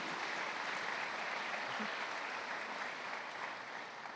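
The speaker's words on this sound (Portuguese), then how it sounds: "dê uma salva de palmas para aqueles que estão aqui conosco" A church congregation applauds, a steady, sustained wash of many clapping hands at even volume throughout, heard alone without any voice.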